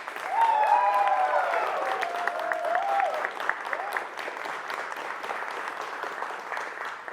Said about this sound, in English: Give them an even bigger round of applause.